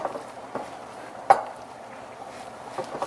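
Sticky eba dough is mashed around in a cooking pot, giving faint soft squishing and light scraping with a brief knock of utensil on pot partway through.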